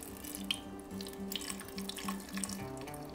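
Liquid pours steadily into a blender jar while making popsicles, a close, continuous trickling stream with faint splashes, no voices over it.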